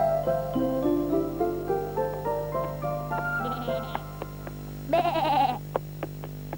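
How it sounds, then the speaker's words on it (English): A sheep bleats once in a wavering, quavering cry near the end of a gentle children's story, following soft musical notes over a low steady hum. "Bleated the sheep."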